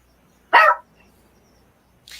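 One loud, close dog bark near a door, a single sharp burst followed by quiet and the start of another sound at the end.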